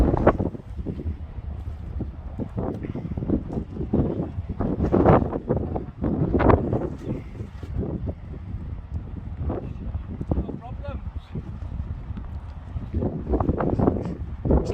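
Strong wind buffets the microphone during paramotor kiting training, a steady low rumble with louder gusty surges throughout, under intermittent speech.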